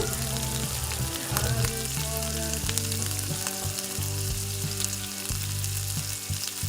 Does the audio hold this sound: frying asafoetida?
yes